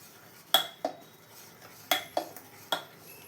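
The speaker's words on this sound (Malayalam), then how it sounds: "എല്ലാം കൂടെ നന്നായി ഒന്ന് മിക്സ് ചെയ്തെടുക്കാം." A metal spoon mixes ground beetroot into dosa batter in a bowl, giving a few sharp clinks and scrapes against the rim in irregular bursts, close and fairly quiet, with no talking.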